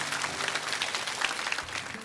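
A studio audience at a televised Chinese lecture show applauds, a dense, even wash of many hands clapping that holds steady for a couple of seconds with no voices.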